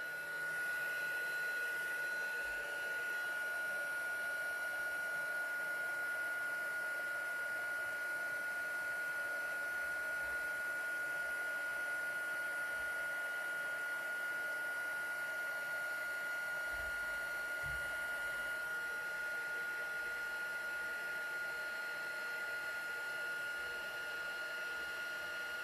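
A heat embossing tool blows and hums steadily as it melts embossing powder on a handmade Christmas card. The airy whir is faint and unbroken throughout, with no talking.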